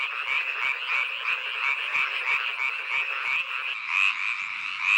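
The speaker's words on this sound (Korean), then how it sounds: "웬 울음소리가 이리도 요란할까요? 청개구리 수컷입니다." A dense chorus of male tree frogs calling together, loud and continuous, with rapid pulsing croaks layered over one another and no pauses.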